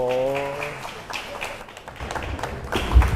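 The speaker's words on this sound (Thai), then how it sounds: "ปรบมือ" An audience at a Buddhist monks' discussion session in Bangkok breaks into a short patter of clapping after a voice, loose and moderately loud, ending with a heavier thump.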